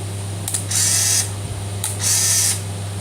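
A Ricoh AF-80 compact film camera is handled as its shutter is pressed, giving a small click followed by a whirring motor buzz. The sequence repeats twice, close and clear over a low steady hum.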